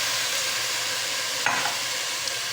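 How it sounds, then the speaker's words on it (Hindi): Dal and rice stirred into a tomato masala in a pan, giving a soft continuous sizzle with faint scraping and a light clink, quiet and close with no talk. "ये दाल और चावल हम डाल के इनको मिक्स कर लेंगे।"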